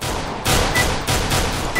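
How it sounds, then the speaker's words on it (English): Gunshots in CS:GO come in about four loud, sharp bursts spaced roughly evenly, with steady game ambience between them and no talking. "Evan, how many bullets have I shot at you?"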